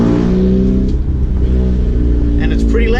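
A car with a newly fitted 2.5 inch exhaust cruises along, its engine a loud, steady low rumble with harmonic drone and a brief rev near the end, a voice speaking over it.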